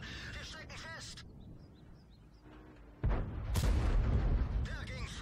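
Artillery shells landing in the World of Tanks video game around a Maus heavy tank: a loud, close, broadband explosive impact erupts midway and rumbles on, following quieter battle noise and earlier sharp bursts.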